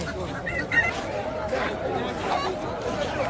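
Afghan bearded chickens clucking among other fowl at a busy Baghdad poultry market, with a rooster-like call rising over steady crowd chatter and someone talking nearby.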